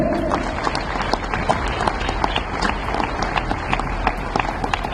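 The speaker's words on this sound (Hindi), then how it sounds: "आप सबके लिए तालियां करें भाई।" Dense applause from a sizable crowd at a political speech at Delhi University, many hands clapping steadily and close by, continuous and lively from start to finish.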